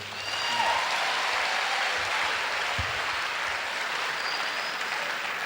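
An audience applauds Madame Zidouemba, honoured as a doyenne at a tribute ceremony: steady, full clapping from many hands that keeps going evenly for several seconds with no talk over it.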